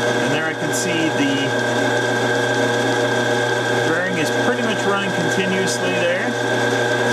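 A wood lathe runs steadily with a spinning workpiece wobbling off true, giving a constant motor whine with a faint cyclic rumble, while someone talks briefly over it.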